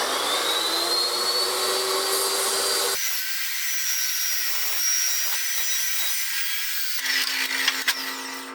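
Metal-cutting saw slicing a piece of stock for a welding fabrication job, a loud continuous high whine that drops in pitch partway through as the blade bites, then runs on with light rattles near the end.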